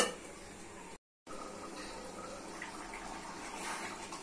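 Water poured into a pot of boiled mung dal, a continuous close hiss of pouring liquid broken by one brief silent gap, with no voices.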